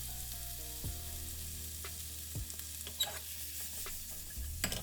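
Bacon and mushrooms fry in butter and oil in a pan, giving a soft, steady sizzle broken by a few utensil clinks and scrapes, with no talking.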